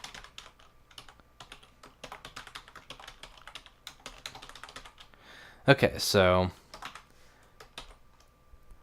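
Rapid, continuous typing on a computer keyboard in LateralGM, a dense run of light clicks broken once by a brief spoken phrase before the keys resume.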